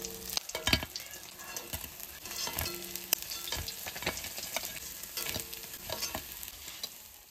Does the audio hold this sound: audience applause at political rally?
no